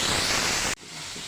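Papdi beans and pigeon peas sautéing in a little oil for undhiyu give a steady, loud hissing sizzle that stops abruptly partway through.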